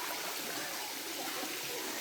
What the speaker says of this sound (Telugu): శివుడికి నిత్య అభిషేకం జరగడానికి అన్నట్టు ఎంతో అద్భుతంగా ఉంది వాటర్ ఫాల్స్ మాత్రం.